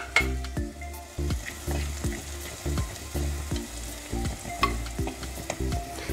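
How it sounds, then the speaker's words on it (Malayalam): Prawn curry masala with Kashmiri chilli powder and turmeric sizzling in a pan while being stirred, a loud continuous fry with rhythmic scraping strokes of a spoon repeating roughly every half second, no talking. "ഇനി ഇതിലേക്ക് ഞാൻ ഒരു അര സ്പൂൺ കാശ്മീരി മുളക് പൊടി ഇട്ട് കൊടുക്കുന്നുണ്ട് പിന്നെ ഒരു കാൽ സ്പൂണോളം മഞ്ഞൾപ്പൊടി ഒന്നുകൂടി ഒന്ന് ഇളക്കി കൊടുക്കാം"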